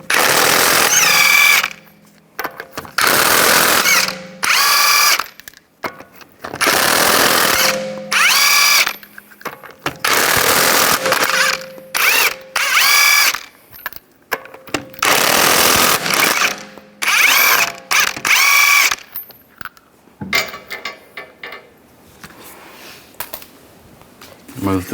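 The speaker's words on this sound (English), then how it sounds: "use a 19mm socket, take the lug nuts off" A power tool with a 19mm socket zips lug nuts off the front wheel of a 2011-2019 Ford Explorer in a series of loud, close whirring bursts of a few seconds each, separated by short pauses, with a voice talking in between.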